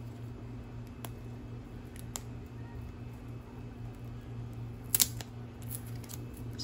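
Scissors snip through trading card packaging in a few faint, separate cuts, with a sharper crisp snip near the end over a quiet, steady room hum.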